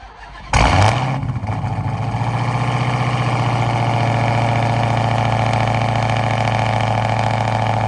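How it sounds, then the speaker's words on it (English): A heavily modified, roughly 1,000-horsepower Dodge Challenger Hellcat fires up from cold with a sharp crank and burst, then settles into a loud, steady, rumbling idle close by. "So let's get you guys a cold start."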